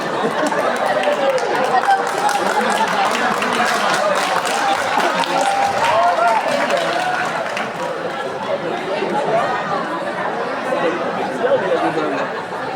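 An audience in a church hall at a parish question-and-answer session claps and chatters, with a dense patter of applause early on that fades into steady crowd murmur and talk.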